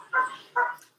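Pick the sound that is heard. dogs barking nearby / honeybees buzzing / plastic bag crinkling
dogs barking nearby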